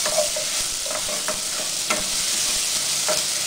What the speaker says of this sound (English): Fry it until it smells good